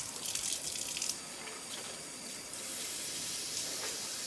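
Water pours steadily from a tap into a milking-equipment part during washing, a close hissing, splashing stream that evens into a steady fill.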